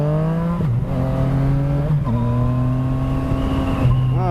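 A Yamaha FZ-09 motorcycle engine revs steadily near the rider, its tone rising through the gears with short dips at each shift, loud and continuous with no talk over it.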